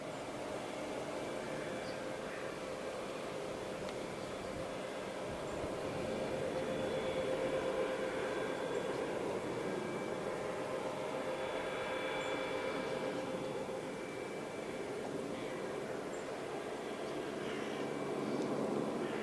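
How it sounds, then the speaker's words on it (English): A steady, broad engine drone of a large plane passing overhead near Wattisham Flying Station, fairly distant, with faint tonal hum swelling slightly midway and no talking. "Oh, there's a big plane up the top."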